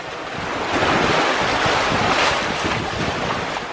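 Wind roaring across the microphone over rushing sea waves aboard a sailing yacht under genoa and full main in an 11-knot beam wind, loud and continuous without talk.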